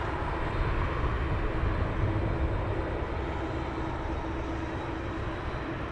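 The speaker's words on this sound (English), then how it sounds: "we are now going to pan around to the next one that's arriving." A Boeing Dreamliner arriving at Heathrow Airport gives a steady, broad jet roar that holds at a constant level throughout, heard from a distance with no talk.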